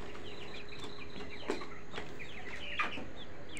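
Poultry birds at a farm cluck quietly in the dark while being gathered and bagged into sacks, soft scattered clucks with a couple of sharper calls and a low rustle beneath.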